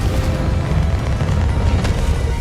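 Spell explosions from combat in the Hogwarts Legacy video game, a dense run of booming, rumbling blasts that stay loud and continuous without a break.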